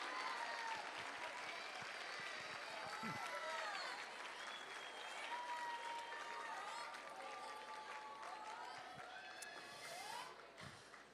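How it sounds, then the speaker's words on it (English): Sustained audience applause fills an awards ceremony at a marching arts finals event in Orlando, Florida, steady and dense throughout with scattered cheers and voices in the crowd. "Give them a round of applause."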